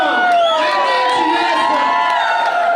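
A loud crowd at a fashion show cheers and shouts together, high voices whooping and screaming in a sustained, excited roar.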